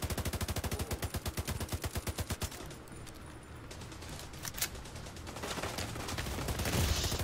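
A shooter fires in the Division 2 video game, first as a fast, evenly spaced burst of loud automatic gunshots, then scattered shots and clatter trailing off into busy battle noise.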